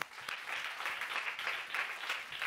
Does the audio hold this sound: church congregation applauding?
yes